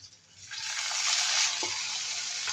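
Garlic and onion with ginger paste frying in a pan give a steady sizzle that builds after a quiet start, with a brief scrape of stirring near the end.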